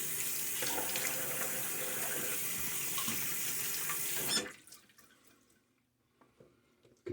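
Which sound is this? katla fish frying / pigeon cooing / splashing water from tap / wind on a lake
splashing water from tap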